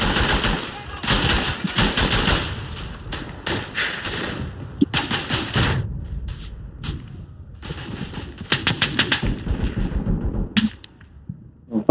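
Machine gun fire from a World War One trench shooter, sounding as dense bursts of rapid shots with thuds, broken by brief pauses, while players talk over and between the volleys.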